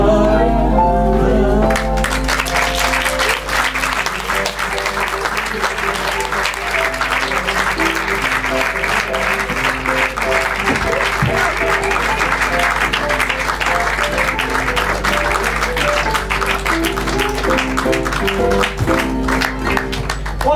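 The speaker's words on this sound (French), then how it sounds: "On applaudit très fortement les corsaires, les flibustiers de l'imaginaire." Dense, continuous crowd applause after an improv theatre performance at a 24-hour improv festival in Paris, loud and unbroken for about twenty seconds, with faint musical tones near the start.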